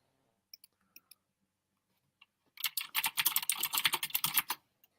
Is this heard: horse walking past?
no